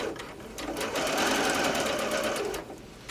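A sewing machine runs steadily while stitching a rolled hem seam with a rolled hem foot, a continuous close whirring that starts and stops briefly at the ends.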